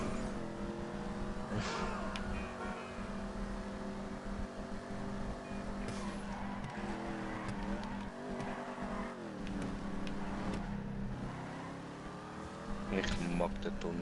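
A GTA 5 Online car engine hums steadily, its pitch rising and falling as it revs, with brief clatters and noises over the drone.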